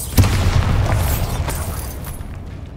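A Bombarda explosion spell in Hogwarts Legacy bursts with a loud, close boom, followed by a rumbling decay and a smaller second pop.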